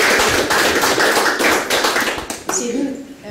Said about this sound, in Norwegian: Jeg synes vi skal få en applaus igjen.